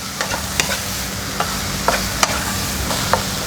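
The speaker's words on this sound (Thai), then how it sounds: "ผัดให้เข้ากันแล้วก็ขั้นตอนสุดท้ายนะคะใส่ใบกะเพราค่ะ ผัดต่อไปอีกเล็กน้อยนะคะ" Drunken-style instant noodles being stir-fried with holy basil leaves in a hot pan, sizzling steadily with sharp scrapes and clacks of the spatula at irregular intervals, close up and with no talking.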